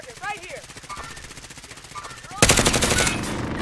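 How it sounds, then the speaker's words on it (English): Automatic gunfire from an enemy juggernaut in a Call of Duty Warzone stadium match crackles in rapid bursts, swelling louder near the end, while players talk over it. "He's shooting me through the wall."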